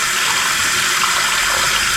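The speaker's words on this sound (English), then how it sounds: "Now, you want to use warm water because it helps cut that stuff." Warm water runs from a tap in a galley, a loud, close, steady rushing splash with no voices.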